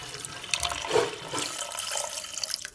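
Water pours into a pot of soaked rice and mutton being cooked as toddler food, a close, continuous splashing and gurgling stream with no talk.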